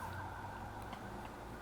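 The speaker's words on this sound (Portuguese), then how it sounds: "agora é a sirene da polícia para atrapalhar." A police siren drifts in faintly from a distance, a steady wailing tone sitting under the room's background noise throughout without clear rises or breaks.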